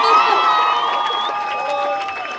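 A lively crowd at a film premiere cheers and whoops, voices overlapping in a loud, sustained burst of excitement.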